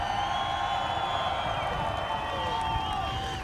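A crowd at a motorsports park cheers and whoops in a steady, continuous roar, with a few distant shouts and whistles rising above the mass of voices for the whole stretch.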